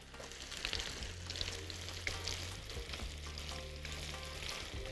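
Potatoes frying in hot oil give a soft, continuous sizzle and crackle that stays even throughout, with a low hum underneath and no voices.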